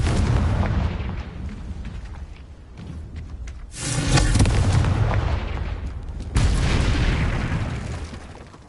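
Confringo blasting spells explode in Hogwarts Legacy gameplay, loud booming blasts in sequence, with a big rumbling burst midway and another heavy blast near the end over sustained combat noise.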